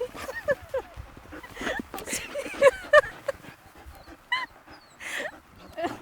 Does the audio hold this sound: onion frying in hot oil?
no